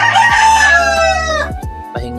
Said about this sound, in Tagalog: Tapos may mga manok din dito.